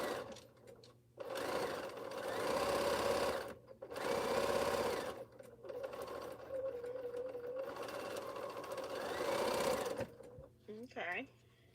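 A home sewing machine stitches a strip quilt in bursts of steady whirring, pausing briefly between runs, with a person talking over parts of it.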